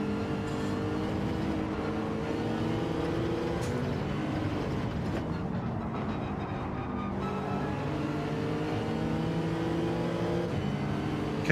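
A Mercedes-AMG race car engine drones steadily in Gran Turismo 7, its harmonic hum shifting in pitch as the car is chased around the track at a constant, moderate loudness.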